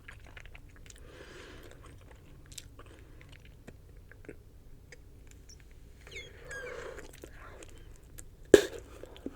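Close-up chewing of Bubble Yum bubble gum, with soft wet smacks and sticky clicks scattered irregularly in a quiet room, alongside faint whispering and one sharper snap near the end.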